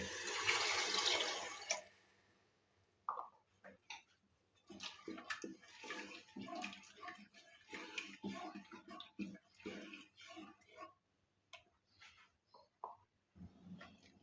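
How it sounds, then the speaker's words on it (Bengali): Water splashes into a pot of chickpea lentils in a short, close pour at the start, followed by quieter kitchen stirring and a voice speaking. "আমি এখন ডালের মধ্যে পানি দিয়ে দিচ্ছি"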